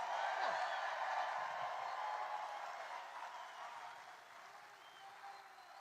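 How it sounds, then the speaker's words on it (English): Dense crowd applause rolls through a campaign rally in Henderson, Nevada, loud and continuous at first, then easing slightly toward the end without any speech. "Give him a round of applause."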